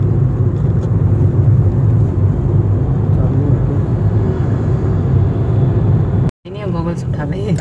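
A steady, loud car engine drone from inside a moving car in third gear, broken by a brief dropout near the end before a voice starts talking.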